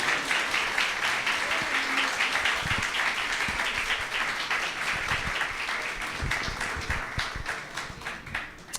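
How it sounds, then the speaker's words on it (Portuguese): A church congregation claps together for a couple being honoured for 17 years of service, a dense, steady wash of applause filling the room for several seconds with faint voices mixed in. "Vamos aplaudir a Deus pela vida desse casal."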